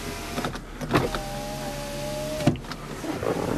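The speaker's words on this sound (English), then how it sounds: "And we've got the power windows on the sides." Power windows on a 2001 Mercedes-Benz C240 run in a steady electric motor whine. The sound is close and clear, with a few soft thumps as the windows start and stop.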